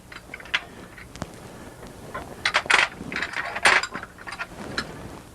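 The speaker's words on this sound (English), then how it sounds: "you thread on the nose piece, you put in the collet closer" Collet closer and collet being fitted into a machine lathe's spindle nose, giving a run of metallic clinks, taps and ratcheting clicks, close and fairly loud, no talking.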